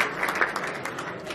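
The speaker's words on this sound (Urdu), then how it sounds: "ان سب لوگوں کے لیے بہت ساری تالیاں" Audience applause at a ceremony: a short burst of many hands clapping in a dense, moderately loud patter, with a few sharper claps standing out.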